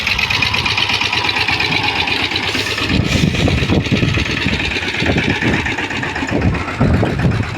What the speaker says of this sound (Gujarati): રિક્ષો ચાલુ કરી લીધો